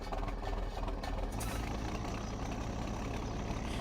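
A tractor engine in the video game Farming Simulator 17 idles steadily with a deep, low rumble, a brief shift in tone partway through, then a constant drone.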